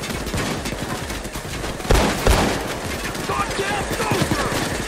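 Gunfire in the heist video game Payday 2, continuous dense firing with a couple of louder bursts near the middle, mixed under game noise and people talking.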